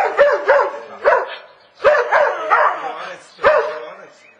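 A dog barks in repeated bursts, close and loud, with short yips in two quick clusters and a final bark, set in an outdoor town setting.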